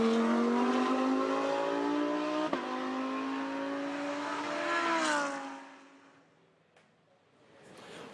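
An Audi GT race car laps Mount Panorama during the Bathurst 12 Hour top-ten shootout, its engine note rising sharply through the gears before a gearshift crack, then fading away into the distance and faintly returning at the end.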